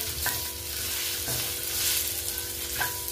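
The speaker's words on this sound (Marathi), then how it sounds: "कांदा फ्राय करून घेते मी आता" Onion fries in hot oil while being stirred, a loud, close sizzle with a few short scraping strokes of a spoon against the pan.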